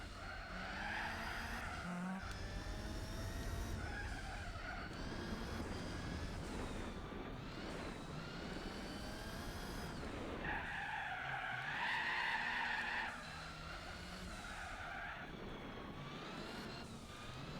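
A car on snow tyres slides and skids across a tarmac stage in Gran Turismo 4, with continuous loud tyre squeal and engine whine rising and falling over several long slides.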